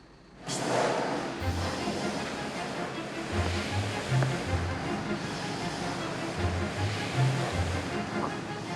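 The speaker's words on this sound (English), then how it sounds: "Yes, this is high-pressure water." A 2,000 PSI chisel jet blasts high-pressure water at up to 70 bar while a cleaner tackles a filthy dump, a loud continuous hiss that starts abruptly and runs on steadily, with a low rhythmic rumble beneath it.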